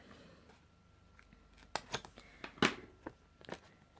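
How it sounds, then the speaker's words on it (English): Scissors snip through small dimensional adhesive foam pieces for a stamped Easter note card, a few sharp close cuts spaced irregularly over a quiet background. "And I'm going to cut the end bits."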